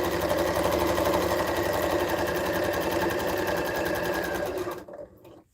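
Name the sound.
sewing machine stitching quilt fabric pieces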